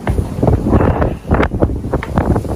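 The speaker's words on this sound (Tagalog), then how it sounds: "Ayan, mahangin." Strong seaside wind buffets the microphone at a hilltop lighthouse overlooking the sea, loud gusts roaring and rumbling in uneven surges.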